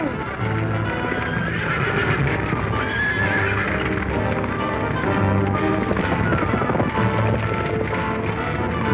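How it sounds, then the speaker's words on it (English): Several horses neigh and whinny loudly over a busy, noisy background, with hooves clattering nearby. "Get those horses out! Save the horses!"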